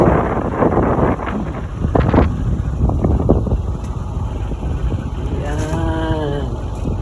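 Wind buffets the microphone at a farm, a steady low rumble with gusts throughout, and a brief whining tone rises near the end.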